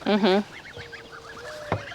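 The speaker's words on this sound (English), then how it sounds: "Oh, and then there's those geese." A couple of loud honks from a goose up close, then softer distant honking and a thin whistle-like tone over quiet outdoor background.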